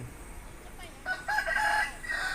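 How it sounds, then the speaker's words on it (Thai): A rooster crows in a rural village yard among clucking chickens and other birds, heard at moderate distance in the second half over steady outdoor ambience. "มีเสียงนก เสียงไก่นะครับ เสียงเป็ดห้องครับ"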